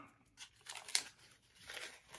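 A paper parts list from an Ozark Trail product is unfolded, giving soft crinkling and rustling with one sharper crackle partway through, close and fairly quiet with no talking.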